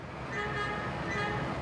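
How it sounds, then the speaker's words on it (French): Car horns sound continuously across dense traffic at Plaza de Cibeles in Madrid during a power outage that left the traffic lights dead, giving a steady mid-distance blare over a constant roar of engines. "Sur la place Cibeles à Madrid, les klaxons font la loi, en l'absence des feux de circulation."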